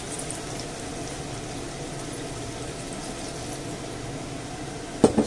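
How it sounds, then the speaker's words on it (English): Water runs into a pot of cubed potatoes for a Spanish potato and seafood stew, a steady low gushing and bubbling wash that holds evenly, ending with a couple of brief knocks. "And I'll add in the water."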